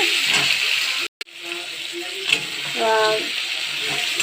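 Tomato being fried with browned potatoes in a pan, a close, hissing sizzle with stirring scrapes, briefly cut out once, while a voice talks over it.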